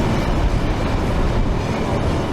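A train running along a railway line beside a road in rural Africa, heard as a steady, dense rumble and roar that holds at an even level throughout, with no voices present.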